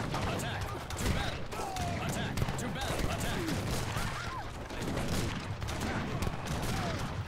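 Dense, continuous rumbling battle noise from Age of Empires III: Definitive Edition, with repeated booming cannon shots and crackling gunfire, steady throughout, like a chaotic game skirmish.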